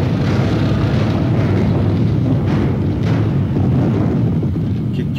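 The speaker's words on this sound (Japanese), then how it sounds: "ボイラーは相変わらず唐突に爆発するな" A sudden boiler explosion in the horror video game Otogirisou, a loud, dense low roar of rumbling blast noise that runs steadily across the whole stretch without letting up.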